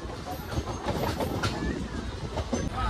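Passenger train running from Rameshwaram toward Thiruvananthapuram, heard from inside the carriage as a steady rumbling roll with faint wheel clatter and occasional squeals.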